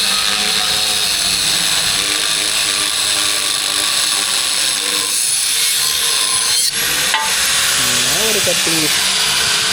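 A power tool grinds through metal while a Mahindra Yuvo Tech Plus 585 4WD tractor top is being built. It makes a loud, steady, broadband grinding whine that runs through the whole stretch, with people talking over it.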